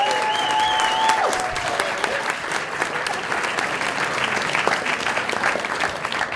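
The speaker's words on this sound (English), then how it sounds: "Can we give them a round of applause?" A theatre audience at a magic show in a Chicago lounge claps steadily for about six seconds, a dense, even wash of applause with a brief tonal whistle or sound cue at the start.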